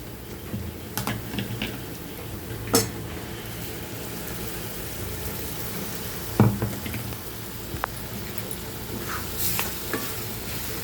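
Tomato paste frying in oil with spices in a pan, a steady soft sizzle with occasional sharp clicks and scrapes of stirring utensil against the pot, continuous and close.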